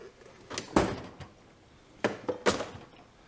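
A metal tool chest drawer slides open and shut twice, each a quick rolling rush ending in a clack, close and fairly loud.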